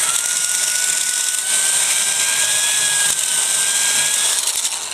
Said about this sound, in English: So the large drill bit will find center.